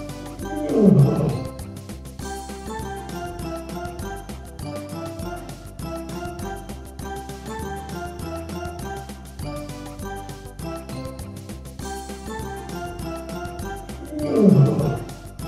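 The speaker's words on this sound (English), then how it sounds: "Lion." A lion gives two loud roars, one near the start and another near the end, heard over steady background music.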